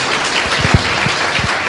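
Church congregation clapping loudly and close, a thick continuous patter with a few heavier thumps from nearby hands, no voices.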